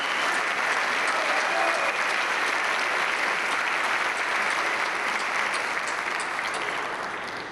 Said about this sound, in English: Let's give another round of applause for Rodney.